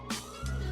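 A police-style emergency siren wails steadily in the background, a sustained tone holding through the short moment with a rumble rising underneath.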